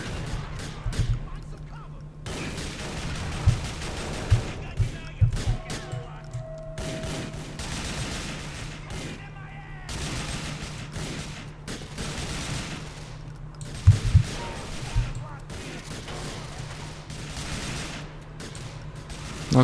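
Rapid bursts of SMG gunfire in the video game GTA IV, clusters of shots crackling over a steady droning background, with sharper louder volleys around the middle and later part.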